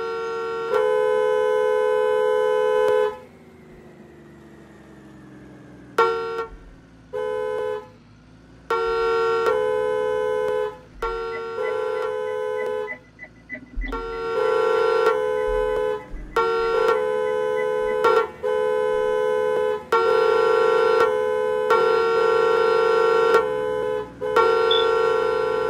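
A bus horn in a bus-driving video game honks in long, loud, sustained blasts, repeatedly on and off with short gaps between them, and no talking is heard over it.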